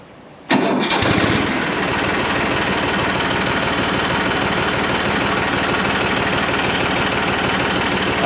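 A tractor engine cranks briefly and catches with a loud start, then settles into a steady, rumbling idle close by, with no talk.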